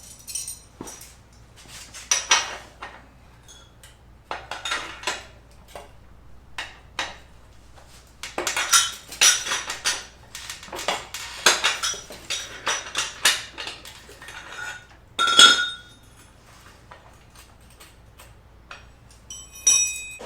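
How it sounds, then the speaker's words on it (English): Wrenches clink and tick against the rear axle of a dirt bike while it is loosened, giving an irregular series of close metallic taps and clicks, with one sharper clank near the end. "So to start, we're going to loosen up the rear axle."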